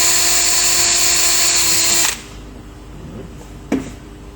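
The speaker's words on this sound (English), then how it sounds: "You drill a little hole here." A loud, steady power drill whines for about two seconds drilling a small hole in an insect screen rail, then stops abruptly, leaving quiet room tone and a short knock near the end.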